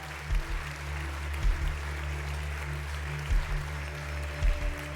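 Faint, steady applause from a television singing-contest audience, honoring a producer, a continuous wash of clapping under a low electrical hum with a few soft low thumps at intervals.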